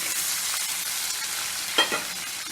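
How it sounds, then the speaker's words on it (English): Pepper kernels, green chilies and curry leaves frying in hot oil, giving a steady close sizzle with a couple of brief louder pops near the end, no talking. "green chilies and curry leaves are nicely splattering. To this, I'm now going to add the pepper kernels"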